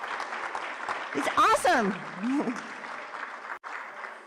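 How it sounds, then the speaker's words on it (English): Applause breaks out at a press conference at Girard College honoring the choir, with a voice speaking over the clapping, cheers rising mid-clip before easing into steady background clapping. "Can we have a round of applause for Art?"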